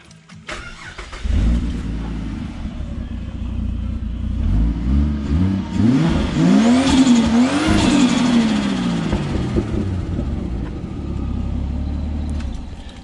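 A Ford Falcon G6ET car engine starts up and revs, loud and close, the pitch climbing and falling through two strong revs before settling into a steady idle, no talk.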